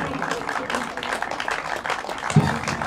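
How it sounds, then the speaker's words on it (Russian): Audience applause at a tournament opening ceremony in Yekaterinburg, a steady crowd clapping throughout with a voice over it. "Провожаем наших гостей и команды аплодисментами под музыку оркестра Павлова."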